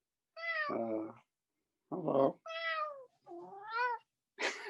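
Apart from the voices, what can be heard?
cat meowing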